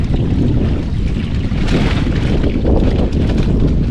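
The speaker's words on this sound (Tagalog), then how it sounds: "Hangin" Strong wind roars and buffets against the microphone in a steady, loud rush, with a low rumble and gusts swelling throughout.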